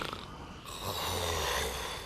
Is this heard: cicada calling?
no